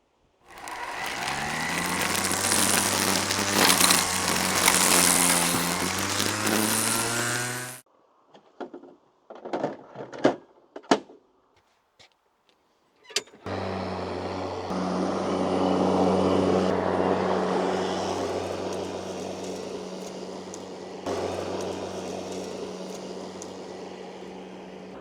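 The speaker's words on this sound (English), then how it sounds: "So my thoughts on this Crest battery power mower." A Crest battery-powered lawn mower cuts grass with a loud, steady motor drone. The drone stops and gives way to a few scattered knocks, then starts up again and runs on.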